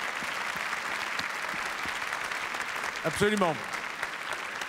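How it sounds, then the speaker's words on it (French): Audience applause at the Coupe du Monde de la Pâtisserie 2019 awards ceremony for Team Japan, steady and continuous across the whole stretch, with a presenter's voice speaking over it near the end. "Allez, on les applaudit bien fort."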